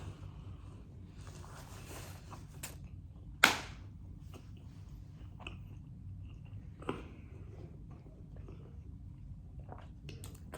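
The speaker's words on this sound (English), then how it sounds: "Let me take a bite of the sandwich." A bite into a crunchy spicy chicken sandwich brings one sharp crisp crunch, then soft, quiet chewing with small clicks in a still room, no talking.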